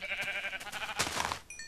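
A Minecraft sheep bleating, a short wavering nasal baa lasting about a second, close and clear, followed by a brief faint tone.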